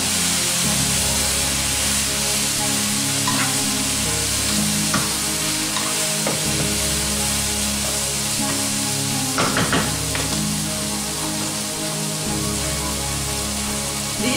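About a pound of defrosted beef fries in a hot pan, giving a loud, dense, continuous sizzle with occasional stirring clatter and spits, close-miked and without speech.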